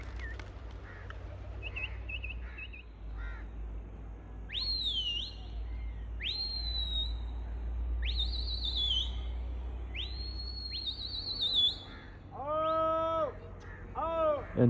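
A person whistles a series of short rising notes, several in a row, then a quicker run of chirpy whistles, with a low hum underneath.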